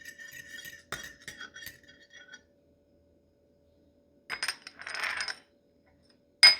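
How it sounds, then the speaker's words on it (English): A fork stirs gelatin in a bowl while a no-bake strawberry mousse is being prepared, giving quick clinking and scraping taps in two short bursts separated by a pause, followed by a final sharp clink. "just mix that up with a fork just to make sure we don't have any large clumps of gelatin"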